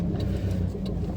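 A Peugeot 106 Rallye engine heard from inside the cabin while driving out of town, a steady mid-pitched hum with faint road noise, no talk over it.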